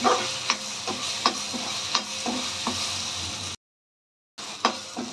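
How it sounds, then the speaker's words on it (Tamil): Ginger garlic paste fries in a pan with a steady close sizzle and repeated scraping stir strokes, cut by a short silent gap before the sizzling and stirring resume. "ஃப்ரை ஆன அப்புறம் ஒரு 2 டேபிள் ஸ்பூன் வந்து ஜிஞ்சர் கார்லிக் பேஸ்ட் ஆட் பண்ணிக்கோங்க."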